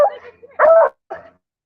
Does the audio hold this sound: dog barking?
yes